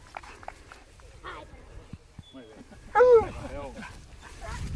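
A hunting dog tracking wild boar gives a loud, sharp bark mid-way, with fainter yips around it, while people talk nearby.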